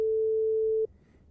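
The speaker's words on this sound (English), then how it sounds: "let's open one sine wave, this sine wave at 440 Hertz" A pure 440 Hz sine wave test tone, steady and loud, holding for under a second before cutting off abruptly into near silence.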